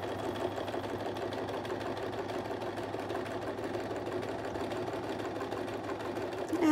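Close and steady, a sewing machine hums and rattles continuously while stitching quilting curves with a Westalee Curly Q ruler set.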